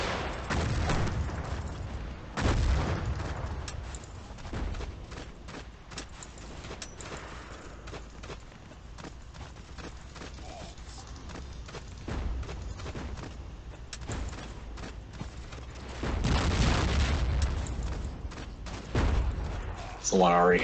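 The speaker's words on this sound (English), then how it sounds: "I might as well just keep picking up packs and throwing grenades from them." Grenade explosions and gunfire in the Battlefield video game, a few loud booms standing out over a steady bed of distant shooting, with someone talking over the action.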